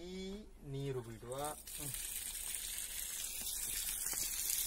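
Tap water runs for washing clothes. A steady gush starts after a voice speaks briefly and then continues alone at moderate loudness.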